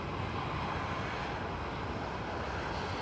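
Fixed-wing aircraft engine passing at an airport in Germany, a steady, broad roar held at even, moderate loudness throughout with a touch of wind noise, no voices.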